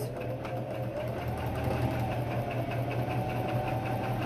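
A sewing machine stitches a face mask made with hairbands, giving a steady, even whir of rapid needle strokes heard up close and running unbroken for about four seconds.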